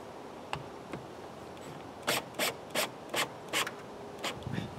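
The mount of a Kasonic LED motion-sensor security light is tightened outdoors, producing a quick series of about six short, crisp ratcheting rasps close by, with a faint tick before them and a few softer ones after.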